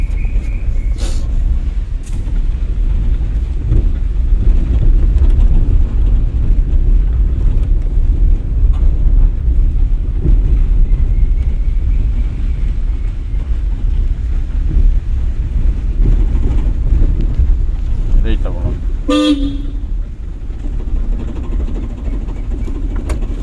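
A low, steady engine rumble runs throughout, with wind buffeting the microphone and a brief clatter near the end.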